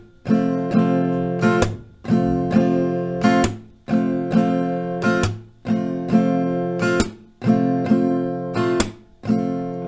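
Acoustic guitar strums a repeating rhythmic pattern, with bright down and up strokes in regular bursts and short muted gaps between rounds.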